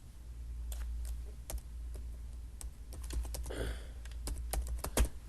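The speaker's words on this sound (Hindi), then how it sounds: "इसको मैं डबल क्लिक करता हूँ" Computer keyboard keys clicking in scattered taps and a quick double-click of a mouse, close and crisp over a steady low hum, with no voices.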